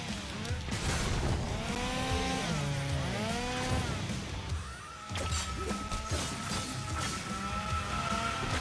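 A chainsaw-wielding enemy in the video game DmC: Devil May Cry revs amid combat, with a rising and falling engine whine over crashes and clashing effects, loud and busy throughout.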